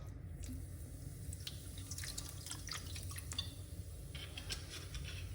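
Fresh herbs being rinsed under running tap water, with steady flowing water and scattered drips and splashes throughout, fairly close.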